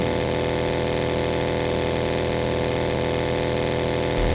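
Steady, loud engine drone of a transport plane in the PUBG Mobile battle royale game, a dense continuous hum that holds level throughout with no voices over it.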